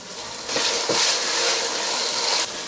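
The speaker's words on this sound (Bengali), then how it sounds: "আদা রসুন বাটাটাকে একটু ভেজে নিলাম।" Ginger and garlic paste sizzles in hot oil in a pan for a beef curry, a steady bright hiss that swells with a couple of soft stirring scrapes, close and fairly loud with no voices.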